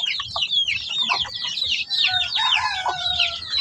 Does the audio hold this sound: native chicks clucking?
yes